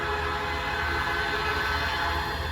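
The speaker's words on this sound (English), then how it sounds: "The train is coming back." A freight train with road, Geep and switcher locomotives returns eastbound as an empty rock train, a loud, continuous rumble and rolling roar close by with no pauses.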